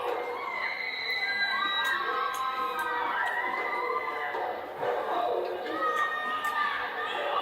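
A wrestling match crowd roars and cheers steadily, with high shouting voices layered into a continuous, loud din that barely dips throughout.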